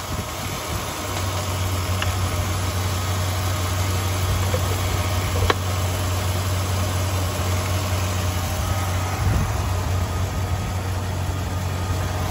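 A 2004 Jeep Grand Cherokee engine idles smoothly and steadily, a constant low hum with an even mechanical drone and no knocks, heard up close with no voices.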